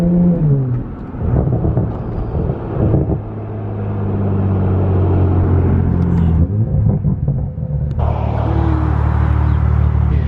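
Several Toyota Supras cruising together on the road, a deep steady engine rumble with shifting tones as the cars roll and rev gently, loud and close.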